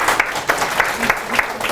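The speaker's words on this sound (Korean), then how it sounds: "네, 박수로 청해드립니다." An audience claps together in steady applause, a dense patter of many hands.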